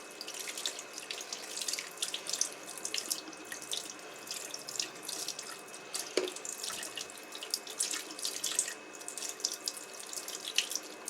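A running tap rinses a makeup brush at a sink, a steady close splashing stream with irregular spatters from the bristles, no voices.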